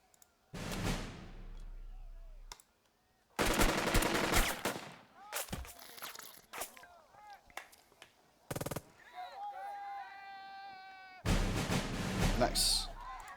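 Gunfire from the World War II tactics game Burden of Command comes in several loud bursts of rapid shots separated by pauses, with chirping and whistling game effects in between.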